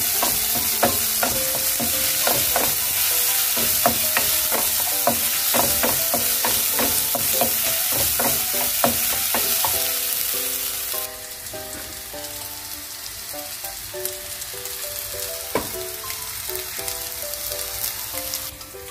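Onion frying in a pan for prawn pulao, a dense crackling sizzle with rapid stirring clicks, easing into a thinner hiss with occasional taps in the second half.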